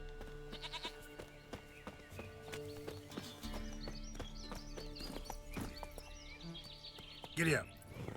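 Horse hooves clip-clopping at a steady trot in the video game The Witcher 3, with a brief whinny near the end and other game sounds underneath.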